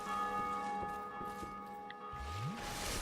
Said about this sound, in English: what you want to do is you want to ring the bell